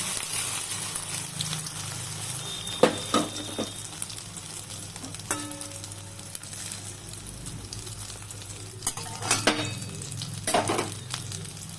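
A beaten egg sizzles in hot oil in a kadai, a continuous frying hiss broken by scattered clinks and scrapes of a utensil against the pan, close and moderately loud, with no talking.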